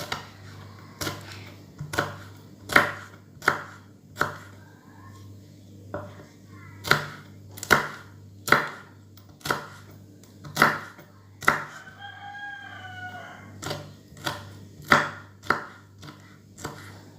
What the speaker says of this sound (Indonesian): Sekarang kita iris juga tipis-tipis cabainya.